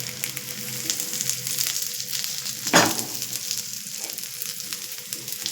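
Raw banana and potato pieces frying in oil in a pan, a steady soft sizzle throughout with one sharper crackling burst near the middle, no voices.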